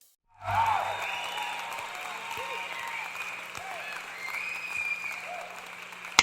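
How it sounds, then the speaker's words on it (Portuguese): An audience applauding as an inserted sound effect, a steady wash of many hands clapping that starts abruptly after a brief silence and holds at an even level to the end. "colocar um barulho aí de uma plateia aplaudindo para vocês"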